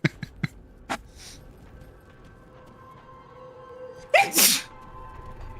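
A person lets out a single loud sneeze near the end, after a few sharp clicks and a quiet stretch.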